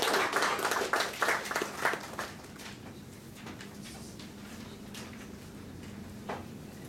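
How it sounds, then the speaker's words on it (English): A small Toastmasters club audience at an Infosys meeting in Hyderabad gives a short round of applause, strongest in the first two seconds, then thinning to scattered claps and quiet room noise. "please have a big round of applause for Shruti"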